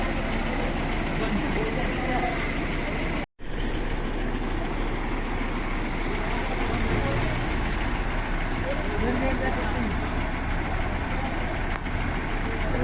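A Sai Kripa bus sits idling at a village stop, its engine a steady low rumble throughout with a brief dropout, while people talk and move around nearby.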